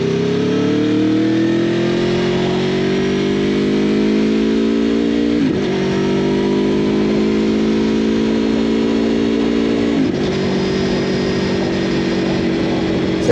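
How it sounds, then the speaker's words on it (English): An Aprilia motorcycle fitted with an aftermarket exhaust runs on an open road, its engine note loud and close with a steady rising drone, broken twice by brief shifts before climbing again. "Let's listen to that exhaust for a sec."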